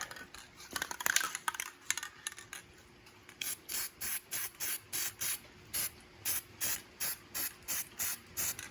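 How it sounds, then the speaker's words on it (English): Aerosol can of hammered silver spray paint fogging engine parts on a 3.1 engine being reassembled, heard as a run of about fifteen short, evenly spaced hissing bursts after some brief handling noise, close and clear with no talking. "So we're just gonna spray some parts of this and make it look a little pretty. Kind of fog it on here a little bit."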